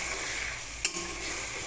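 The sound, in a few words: stir-frying spice paste in pan (paneer spinach recipe)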